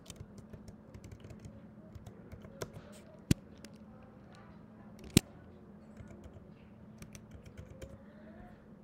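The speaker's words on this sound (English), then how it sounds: "So let's type the correct password." Soft keystrokes on a MacBook keyboard tap out a password in a quick, uneven patter, with a couple of sharper key clicks standing out against a low, steady background hum.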